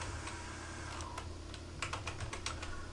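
Typing on a computer keyboard, a close run of light, quick key clicks that grow denser toward the end, no speech.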